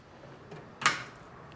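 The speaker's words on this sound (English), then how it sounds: "Moving down one drawer" A drawer on an inexpensive US General tool cart slides open with a single short metallic clack, close and fairly crisp, followed by faint rattling in a quiet room.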